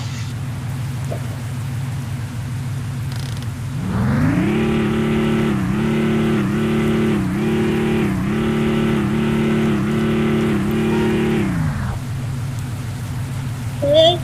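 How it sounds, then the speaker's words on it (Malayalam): A bus engine in the Bus Simulator Indonesia game, fitted with a Wayanadan bus mod, hums low at idle, then revs into a steady, throbbing drone for about eight seconds before dropping back, with a faint rain-like hiss underneath. "ഇതാണ് നമ്മുടെ ബസ്സിന്റെ സൗണ്ട്."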